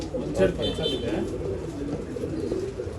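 Pigeons, including a breeding female, giving soft low coos close by, with faint chirps mixed in and a person talking over them.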